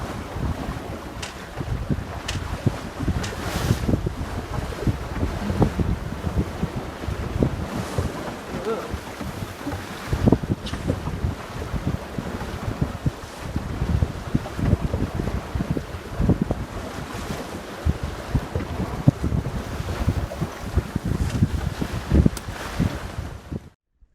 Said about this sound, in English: Currently doing 6 knots in a nice force 3, perhaps 4, a little bit more wind than we'd set off in.